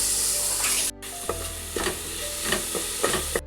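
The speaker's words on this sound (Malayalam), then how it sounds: "ഉള്ളി വാടി വന്നിട്ടുണ്ടെങ്കിൽ തക്കാളി ഇട്ട് കൊടുക്കാം" Onions, ginger and garlic, then tomato, fry in a pan for kapa biriyani, a steady loud sizzle broken by a brief drop as ingredients go in, followed by several sharp stirring scrapes.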